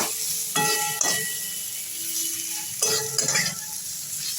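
A spatula scrapes and clanks against a pan while boiled potatoes are stirred, over a soft background sizzle, with a few distinct metallic knocks.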